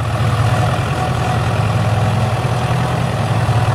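A rebuilt 1959 Ford 881 diesel tractor engine idles on its first run, a loud, steady low-pitched rumble with even rapid firing pulses, close by and with no voices.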